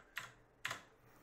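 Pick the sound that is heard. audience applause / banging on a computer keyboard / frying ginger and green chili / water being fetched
banging on a computer keyboard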